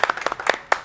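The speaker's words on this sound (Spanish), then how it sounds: "Aplausos de producción, por favor." Production crew clapping in a television studio before a football interview, a short, sparse patter of a few pairs of hands, close and distinct, fading after a final clap.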